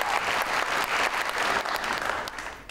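Studio audience applause on a TV talk show, a steady wash of many hands clapping at moderate volume, continuous for a few seconds and tapering slightly toward the end.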